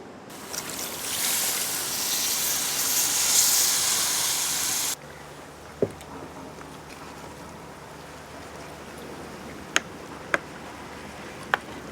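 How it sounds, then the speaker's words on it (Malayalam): Water poured into a hot pan of Chettinad-style turkey meat, a loud bright sizzling hiss for about five seconds that cuts off abruptly, followed by quiet kitchen sounds and a few sharp clinks. "വെള്ളം ഒഴിച്ചോ."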